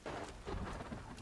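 Rumbling thunder rolls through a storm in the Sons of the Forest survival game, a broad low roar with rain hiss layered over it, steady and loud for the whole short stretch.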